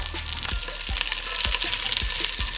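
Sausages fry in a pan while pasta is cooked, giving a steady loud sizzle and crackle with repeated knocks and scrapes as they are stirred or turned.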